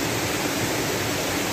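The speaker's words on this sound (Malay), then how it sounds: "Air terjun ni antara air terjun yang cantik jugalah." The Chaloem Phra Kiat King Rama IX waterfall in Betong, a tall cascade, roars as a steady broadband rush of falling water, loud and continuous with no voices.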